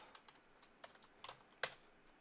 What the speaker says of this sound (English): Typing too fast for myself.